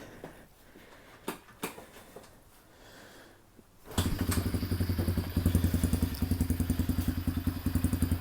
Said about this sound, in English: It is carbureted and it is cold, so it is idling a little low right now